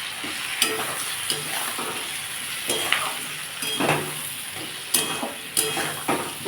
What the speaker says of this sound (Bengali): আন্দাজ মতো নুন দিয়ে এটাকে আমি ভালো করে আবার কষবো